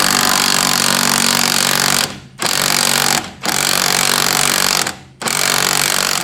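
Power tool, likely an impact wrench, loosening the 21 mm top nut of a suspension strut mount on a Volkswagen or Skoda, a loud continuous hammering rattle broken by three brief pauses, close with no talking.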